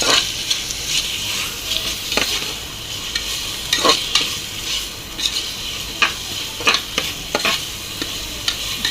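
Steady sizzling of ginger garlic paste frying in a pan, with a spoon scraping and stirring in irregular strokes, close and fairly loud, no voices.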